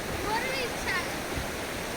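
A natural waterfall spilling out of the mountain at Mahendragiri gives a steady, dense rush of water, with faint voices briefly audible over the constant roar.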